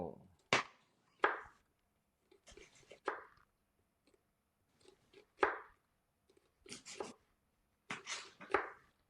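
Knife slicing through an onion on a cutting board, a series of sharp, separate cuts at an uneven pace with quiet gaps between them, close by.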